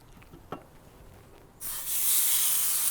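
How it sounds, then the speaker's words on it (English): A steak hits a hot Grizzler pan inside an Ooni Koda 16 pizza oven, breaking into a loud, steady searing hiss partway through after a quiet start. "use the heat of the Grizzler pan to sear the steak"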